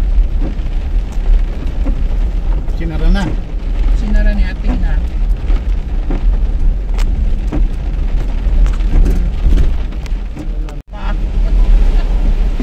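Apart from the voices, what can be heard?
heavy typhoon rain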